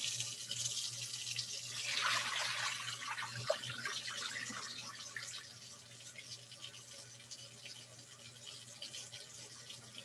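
Running water rinses Persian rice to strip surface starch, a steady close wash with a louder swell of splashing early on that settles into a softer, even flow.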